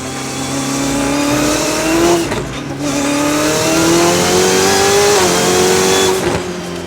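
Lotus fitted with a Ferrari 488 twin-turbo V8 accelerating hard, loud rising engine pitch through two long gear pulls with a brief dip at a shift, close and dominant.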